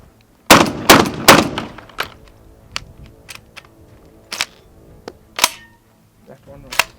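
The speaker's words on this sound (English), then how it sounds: "The shotgun's in semi-auto currently. I'm going to shoot 3 rounds" A pump-action shotgun switchable to semi-auto fires three quick, loud blasts in semi-auto mode near the start, followed by scattered mechanical clicks and handling noises.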